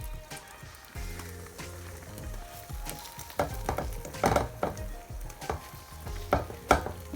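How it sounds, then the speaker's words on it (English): An egg fries in butter in a pan with a tortilla wrap laid on top. A quiet, steady sizzle and crackle is broken by a few louder pops and light clatters. "I'm going to put the tortilla wrap onto the egg that is cooking"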